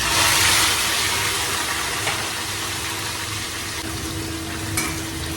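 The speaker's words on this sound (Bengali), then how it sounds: "কড়াই তেল দিচ্ছি বন্ধুরা দেখুন শিঙি মাছ এবার ঢেলে দিলাম" Shingi fish frying in hot oil in a wok make a loud, dense sizzle that stays steady throughout, with a few sharper spits and pops along the way.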